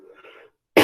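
A single loud, close cough bursts out abruptly after a stretch of quiet low murmuring in the room.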